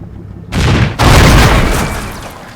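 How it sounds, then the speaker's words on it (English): A StuG assault gun fires at a T-34-85 in the Combat Mission war game, two loud booms close together, the second one rolling into a long fading rumble. "My Stug on the left flank spots it and engages,"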